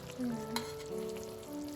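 Steady oil sizzle and crackle from a frying pan as basa fish cooks, with a brief scrape as the fish is stirred, close and continuous.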